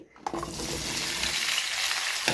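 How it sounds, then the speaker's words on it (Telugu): Ivy gourd pieces fry and sizzle in hot oil in a pan, a dense, steady crackling hiss, loud and close, with a stirring scrape at the start and no talk. "దొండకాయలు అయితే ఫ్రై అవుతున్నాయి"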